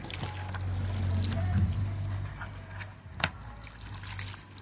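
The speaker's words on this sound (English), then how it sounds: "So here now I'm going to rinse off the saltfish." Salt fish rinsed under running tap water, a steady splashing wash with a low hum beneath it and a brief clatter near the end.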